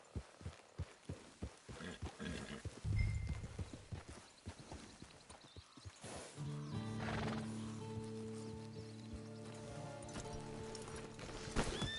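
In the game Red Dead Redemption Online, a horse's hooves clip-clop in a quick rhythmic run, then a long, loud neigh and whinny rises and wavers over the rest of the clip.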